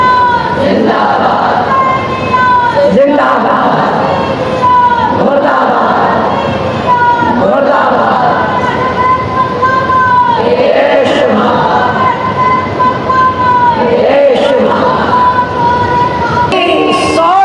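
A crowd at a Shia majlis (mourning gathering) shouts the slogan Husainiyat Zindabad in repeated rhythmic bursts, loud and close, each chant rising and falling with short gaps between.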